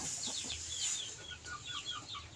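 Chickens cluck in a quiet coop, with a run of short, close, soft clucks and chirps scattered over a faint background hiss.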